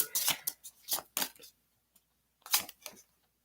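Tarot cards shuffled by hand, a few quick crisp riffling bursts separated by short pauses, close and fairly clear with no talking.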